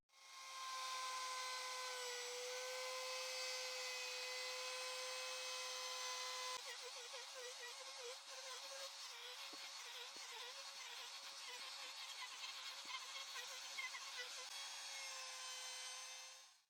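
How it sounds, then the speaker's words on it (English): A handheld router fitted with a 25mm bit rounds over wooden edges, a steady high-pitched whine that shifts into a rougher, fluttering cutting sound as the bit bites the wood, close and continuous. "I will use the router with a 25mm bit to round all the edges"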